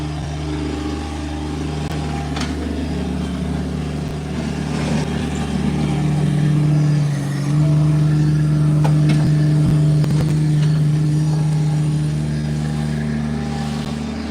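A car engine drones steadily near a construction site, its pitch swelling and holding as the vehicle passes close by, with no talk.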